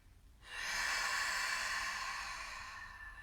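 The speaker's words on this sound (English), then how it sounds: "We're going to breathe in through your nose, force the air out through the mouth." A forceful yoga breath, in through the nose and pushed out through the mouth, heard as one long, loud, close rush of air that slowly tapers off.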